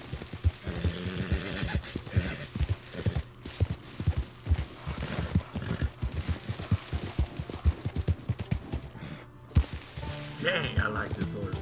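Horse hooves clip-clopping in Red Dead Redemption 2 while riding along a desert road, a steady rapid galloping rhythm of thuds with occasional louder hits, fairly close, and a brief rise of other game sound near the end.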